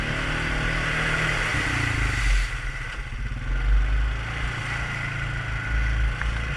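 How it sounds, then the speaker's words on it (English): An off-road vehicle in four-wheel drive grinds through soft, muddy ruts, its mid-range engine droning steadily close by with rising revs and some clatter and sloshing, and no talk. "it's so soft I just drove right over the ruts"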